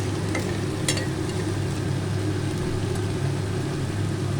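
Potatoes and banana stem fry in a pan in a steady, close, broadband sizzle that holds at an even level throughout, with a few faint clinks of stirring.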